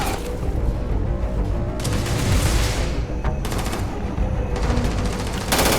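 Gunfire in the Starfield video game, dense bursts of automatic shots and booming reports rattling on continuously at close range, loud and sustained with no voices.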